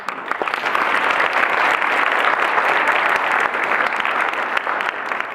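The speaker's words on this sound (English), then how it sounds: "So a round of applause for them." A loud, full round of applause from a student audience at a medical school cultural show, honoring faculty, dense even clapping throughout with no talk over it.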